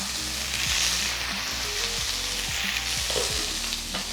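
Asparagus frying in butter in a pan, a steady close sizzle broken by repeated scraping and clinking as it is stirred and moved around.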